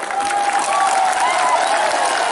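An audience claps in a steady, dense wash of applause at a large gathering, loud and sustained without a break.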